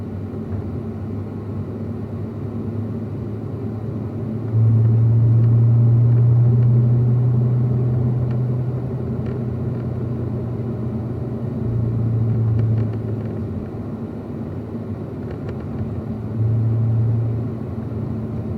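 Corvettes lap a race track during an owners school session, their engines a steady low rumble that swells louder in a few passes, with no talk over the drone.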